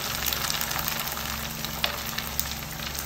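Prawn crackers fry in oil that is not hot enough, giving a steady, even sizzle and crackle that runs throughout with no pauses.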